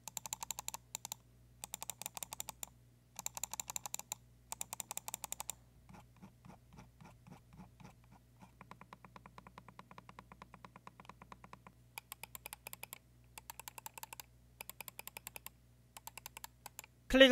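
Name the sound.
computer mouse button clicks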